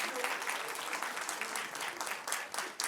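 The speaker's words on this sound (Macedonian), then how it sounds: "Ве молам и нив да ги поздравиме со еден аплауз." An audience at a music stage event gives a band sustained, even applause from many hands, with a voice faintly audible underneath.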